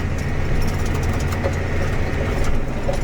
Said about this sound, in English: This is the roughest tractor on our farm by far.